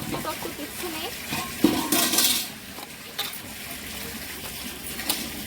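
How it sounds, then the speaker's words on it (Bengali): Running water rinses something until it runs clear of blood, a steady splashing rush that swells into a louder gush midway, with a voice talking over it. "লাল জল থেকে সাদা জল বেরিয়ে গেল, একদম পুরো পরিষ্কার"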